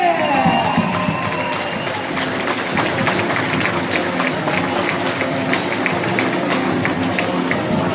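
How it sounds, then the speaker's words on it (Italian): Applause and cheering from a crowd of parents and spectators at an under-14 boys' final, a steady dense clatter of many hands over a broad murmur of voices, sustained and fairly loud throughout. "E ora fatevi un applauso a tutti!"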